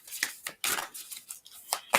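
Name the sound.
shuffling a deck of cards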